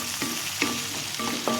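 Tomatoes sizzling in a hot pan, a constant crackling fry broken by regular scraping strokes as the pieces are stirred.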